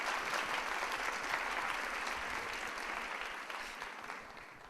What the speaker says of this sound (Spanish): Les pido un aplauso para nuestro conferencista.